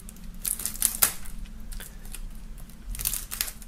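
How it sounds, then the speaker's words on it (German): Crisp crinkling and tearing of plastic shrink-wrap foil being pulled off a music album, close and in short bursts over a low background hum. "Nachdem das Album noch in Folie geschweißt ist, werden wir das mal aus der Folie befreien."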